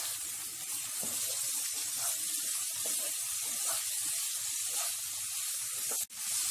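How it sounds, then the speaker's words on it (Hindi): Guar beans frying with masala in a pan over a medium flame, a steady soft hiss and sizzle running throughout with faint stirring clicks, fairly quiet with no talk. "मीडियम फ्लेम पे फली को हमें मसालों के साथ अच्छे से भूनना होगा"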